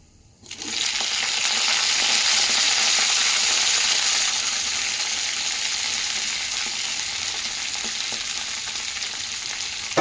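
Green chillies and cumin hit hot oil in a pan for a fenugreek leaf chutney, bursting into a loud, bright sizzle after a brief quiet start, then frying steadily and slowly easing off.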